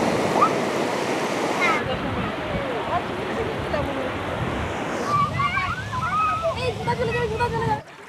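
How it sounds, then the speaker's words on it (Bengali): Sea waves at Bakkhali beach roar steadily and loudly throughout, a constant wash of surf. Chirping birds and distant beach voices come through over it in the later part. "সমুদ্রের উত্তাল গর্জন শুনেছেন তো?"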